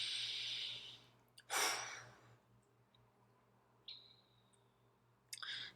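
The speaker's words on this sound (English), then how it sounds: "Take a deep breath, everyone." A slow deep breath, an airy inhale followed by a strong exhale, close and soft over quiet background hum, with a few faint whistly breath sounds afterward and no speech.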